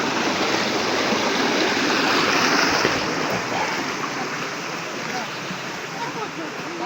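The Dustaqxana waterfall in Astara roars as a dense, continuous rush of falling water, loud and close, holding steady for the whole stretch with only slight swells in level.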